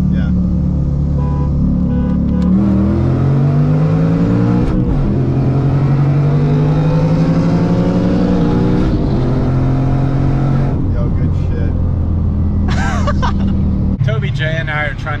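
A car on the road rises and falls in engine pitch as it downshifts and accelerates, a loud continuous drone with a person talking over it.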